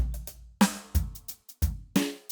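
A brush drum kit loop playing on a Boss RC-600 loop station for a hip hop beat: soft swishing snare hits and low kick thumps in a steady, sparse pattern, close and clean with no voices.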